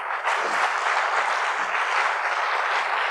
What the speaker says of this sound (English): Please give a round applause to this most powerful lady.